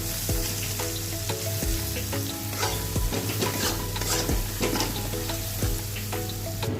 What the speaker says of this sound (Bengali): এবার মশলাটাকে ভালো করে আমরা কষিয়ে নেব